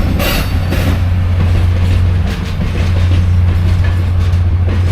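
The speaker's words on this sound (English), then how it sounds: "And here comes the Little Red Caboose." A train trailing a little red caboose rolls past on the rails at the Jim Thorpe wye in winter, a loud, close, steady rumble with a constant low drone throughout.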